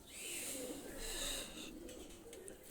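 A pair of red-necked high-flyer pigeons coos in a loft, low soft murmuring calls running steadily under a loud, dense chirping background of other birds, close by and continuous.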